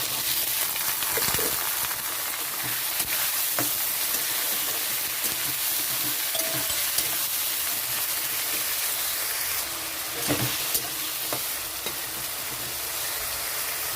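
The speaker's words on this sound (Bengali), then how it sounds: "আলুটা হালকা ভাজা হয়ে গেছে" Small-cut potatoes frying in oil with green chilli and garlic give a steady, close sizzle throughout, with occasional stirring scrapes and clicks and no talking.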